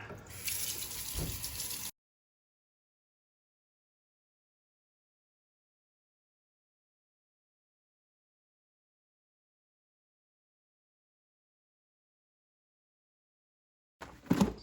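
A geode being washed out under running water makes about two seconds of close, steady splashing flow. Long silence follows, then a brief return of sound at the very end.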